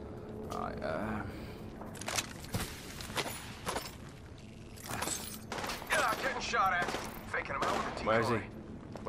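Gunfire and battle noise in Apex Legends, with sharp shots scattered among clattering game effects at moderate level while players talk over the action.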